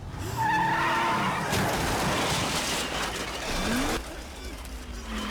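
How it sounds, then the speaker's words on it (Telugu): A car skids with screeching tires before striking a motorbike in a Telugu movie scene, a loud sustained squeal and rush of road noise running through the clip, with dramatic film sound under it. "కార్ నడుపుతూ ఉన్నప్పుడు సడన్గా ఒక బైక్ అడ్డం వస్తుంది కార్కి."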